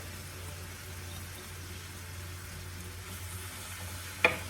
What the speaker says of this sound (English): we're going to let that cook down just to get them a little soft